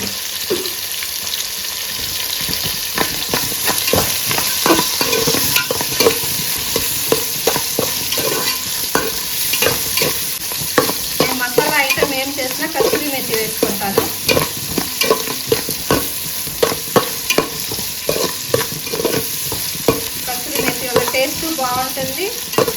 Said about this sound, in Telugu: క్యాప్సికమ్ ఆనియన్ ఇంత వేగింది